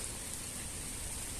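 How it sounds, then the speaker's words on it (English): Heavy rain falls outdoors in a nature-filled area of a town, a steady dense hiss of drops on surfaces, close and continuous throughout with no pauses or voices. "it is raining highly"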